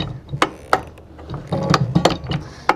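The manual override handle of a Lofrans Tigress anchor windlass is worked back and forth, giving close, irregular ratcheting clicks and metallic knocks over a low mechanical rumble.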